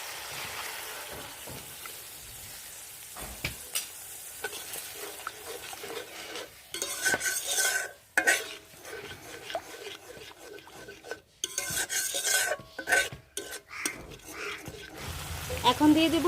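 A paste of turmeric, chili and coriander powder with ginger goes into a hot pan for a vegetarian pointed gourd and yogurt curry. Steady spoon scraping and stirring build into louder bursts of wet sizzling and clattering partway through.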